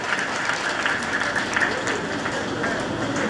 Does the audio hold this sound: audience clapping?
yes